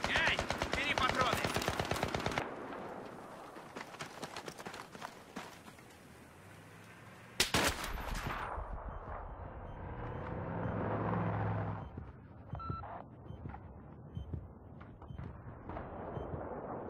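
Rapid gunfire in the shooter game Battlefield 3, dense bursts of shots at first, then a sharp loud blast and scattered later shots, with background game noise and occasional voices.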